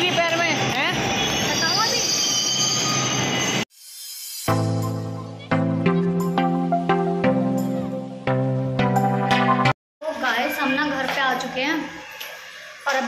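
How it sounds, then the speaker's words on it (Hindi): A metro train pulls into a station with loud, high squealing wheels and a rumbling roar, then a chiming tonal announcement and more rolling rail noise, with voices talking throughout. "मेट्रो आ चुकी है"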